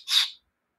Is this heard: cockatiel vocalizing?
yes